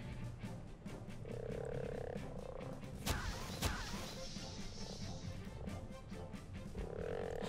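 Frogs croak repeatedly in the fantasy strategy game Regalia: Of Men And Monarchs, their calls standing out over game music and combat noise, with two sharp crashing hits near the middle.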